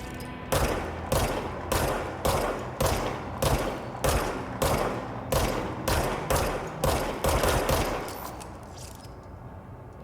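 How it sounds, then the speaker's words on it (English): A rapid, steady fusillade of gunshots rings out in the video game Control, about a dozen sharp cracks at an even rhythm, loud and close, with a short pause near the end. "Well, apparently shooting it does nothing."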